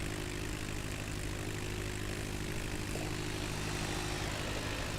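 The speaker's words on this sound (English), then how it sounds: "I hear another plane." A propeller airplane drones steadily nearby during a flight from Michigan City to Meigs Field, a constant engine hum heard alone without talk.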